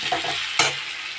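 Eggplant slices frying in oil for begun bhaja, a steady close sizzle with a brief louder hiss midway, no voices.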